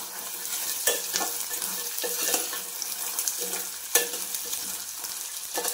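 Green peas fry with spices, onions and green chillies in a pan for matar pulao, a continuous close sizzle broken by sharp stirring scrapes, with no voices.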